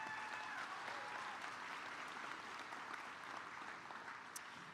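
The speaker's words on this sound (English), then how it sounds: "Give them a round of applause." A graduation audience at a county high school ceremony claps in a long, even round of applause, steady and full, heard from the crowd without any talk over it.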